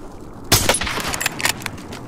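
Gunfire in a battle royale video game: a loud burst of shots cracks out near the half-second mark, followed by a few scattered lighter reports over a steady background hum.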